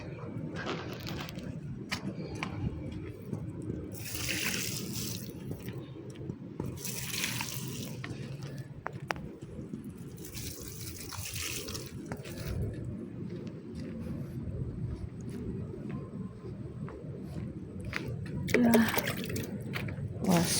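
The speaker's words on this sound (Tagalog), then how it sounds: "Paliguan natin yan ng tubig." A hose or tap pours water steadily over courtyard plants in the morning, a continuous splashing wash with pigeons cooing softly nearby and occasional quiet talk.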